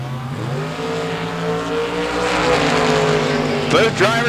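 A Camaro drag racing in the far lane, a loud sustained engine roar rising steadily under a track announcer's voice, with a brief tire screech near the end.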